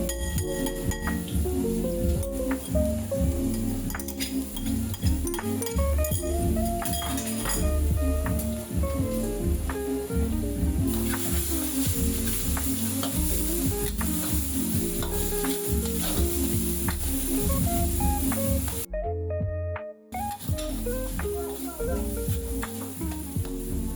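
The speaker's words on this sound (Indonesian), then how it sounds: "Tumis bawang putih dulu yang pertama. Biarkan si bawang putih ini ditumis sampai harum" Garlic sautéing in hot oil in a pan for a bolognese sauce, a steady close sizzle broken by repeated stirring scrapes and light clinks of the utensil against the pan.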